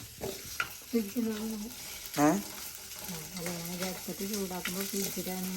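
Drumstick leaf curry being reheated in a pan gives a steady, moderate sizzle and frying crackle, with a spoon stirring now and then and voices running through it.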